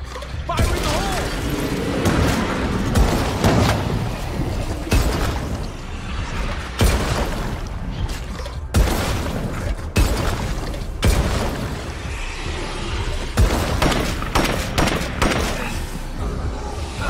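Explosions and gunfire in State of Decay 2 as a plague wall is blown up, with booming blasts, shattering crashes and rapid shots filling the scene continuously and loudly, while a voice calls out over the action.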